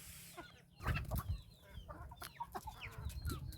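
Hens and small chicks cluck and peep in a farmyard at dusk, a close but quiet cluster of short, uneven calls with no voices.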